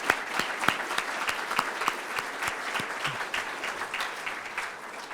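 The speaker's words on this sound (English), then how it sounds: "So a round of applause for all of our community practice partners, please." An audience at a police youth engagement strategy launch conference gives a round of applause, a moderate, fairly sparse patter of clapping that thins out toward the end.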